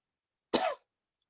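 A single short, clear cough from a person during a guided breathing exercise, quiet and isolated against silence.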